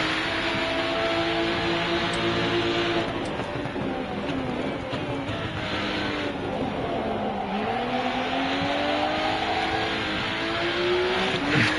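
Race car in the RennSport sim racing game, engine droning steadily at close range with rising and falling revs and gear changes throughout, alone without voices.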